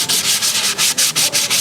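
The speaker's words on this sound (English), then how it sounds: "When he finally gets all dried, you'll just take you some very fine sandpaper" Very fine sandpaper rubs over a dried gourd birdhouse in steady back-and-forth strokes, about eight close, loud scratchy swipes in an even rhythm with no talking.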